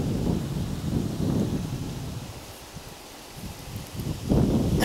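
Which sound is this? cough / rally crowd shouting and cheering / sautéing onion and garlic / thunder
thunder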